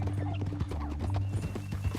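Horse hooves clip-clop in a steady rhythm in Red Dead Redemption 2, close and clear over a low ambient hum, with a brief whinny-like sound mixed in.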